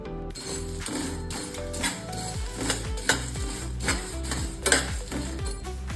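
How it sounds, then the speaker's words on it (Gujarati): Small cinnamon pieces drop into a pan of dry-roasting tea masala spices, giving light clinks and rattles over a steady near background hum, with no voices. "હવે એની અંદર તજના ટુકડા પણ ઉમેરી લઈશું."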